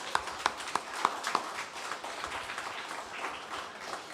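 A few distinct claps open a round of applause for a band at a live radio show. The claps then blur into a softer, steady wash of clapping.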